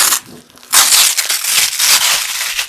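A loud, harsh rasping rip of a Velcro belt lining being pulled apart, one long continuous tear after a short pause, close and with no voices.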